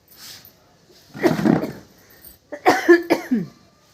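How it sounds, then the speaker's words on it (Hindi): A person coughs in several harsh bursts up close, with a short pause between the fits. "मुझे खांसी आ रही है"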